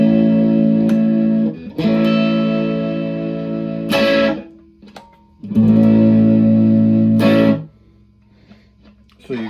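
Loud, sustained electric guitar chords with thick fuzz distortion, ringing out in long held strums separated by brief gaps, played on a Fenix Telecaster by Young Chang.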